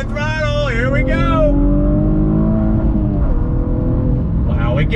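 A Cadillac ATS-V with a six-speed manual at full throttle on an open road, its engine note rising and pulling steadily and loudly throughout, while a person talks over it.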